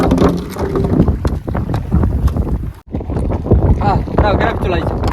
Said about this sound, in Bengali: যেমন হাওয়া তেমন ঢেউ।